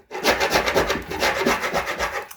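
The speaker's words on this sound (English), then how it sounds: "This is a very, very firm scraper. It's a 5-in-1 tool." A firm 5-in-1 scraper tool drags over a panel, scraping off old paint in quick, rough rasping strokes. It sounds close and steady, with no voice.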